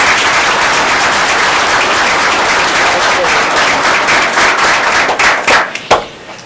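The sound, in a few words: audience applause at school board meeting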